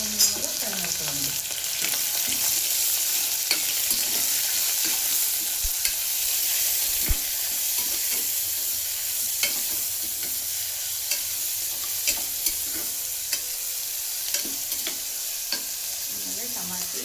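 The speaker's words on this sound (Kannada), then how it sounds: "ಶುಂಠಿ ಬೆಳ್ಳುಳ್ಳಿ ಪೇಸ್ಟ್, ಇದನ್ನ ಚೆನ್ನಾಗಿ ಫ್ರೈ ಮಾಡ್ಕೊಳ್ಳೋಣ" Ginger garlic paste fries in a pan with a continuous loud sizzle, broken by regular clicks and scrapes of stirring.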